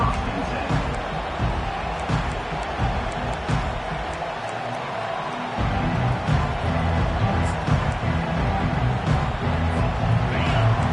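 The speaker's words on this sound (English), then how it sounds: "This crowd, full throat, spreading the eardrums and letting them know it's going to be a long day." A packed stadium crowd at an American football game roars and cheers continuously, a broad distant wash of noise that swells louder partway through, with announcer-style talk over it.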